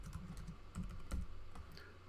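Quick, soft clicks of a computer keyboard being typed on, a rapid irregular patter of keystrokes heard close and quiet with no talk.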